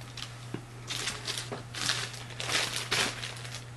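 Plastic product packaging crinkled by hand, a run of crisp rustling bursts about a second apart, close to the microphone over a low steady hum, with no talk.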